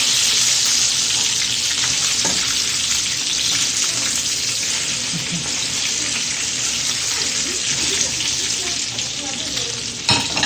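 Fish fries in hot oil with a steady, close sizzle that fills the whole stretch, with a few light clicks and stirs near the end and no talking.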